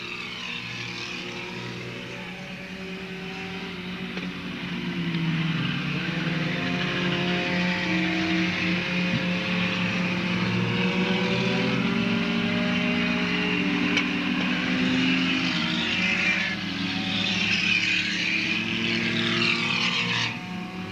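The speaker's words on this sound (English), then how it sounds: "Mason Dunaway, your leader in the 135 with a white flag on the speedway." Race cars circle Talladega Short Track during a 2007 heat race on the white-flag lap, a steady layered engine drone with shifting pitches, held at moderate distance with no voices.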